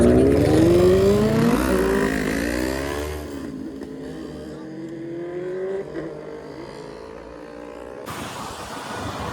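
Sunday night road traffic heard from a CBR motorcycle while riding, with loud engine drone and revs rising and falling, passing vehicles, and steady wind rush throughout.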